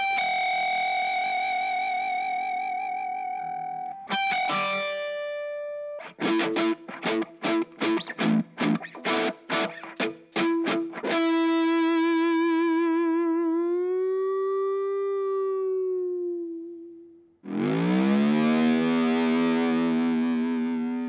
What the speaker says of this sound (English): record in a whole bunch of different sounds with my guitar